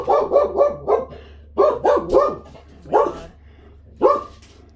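A dog barks in clusters indoors, two or three quick woofs at a time followed by single louder barks, close and fairly loud, with no talking.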